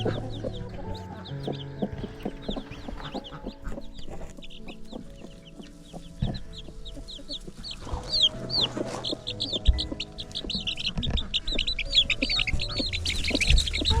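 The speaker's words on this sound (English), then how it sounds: "she hatched out a bunch of little baby chickens" A hen clucks and murmurs steadily while her newly hatched chicks cheep high and rapidly throughout, all at a moderate distance with no talking.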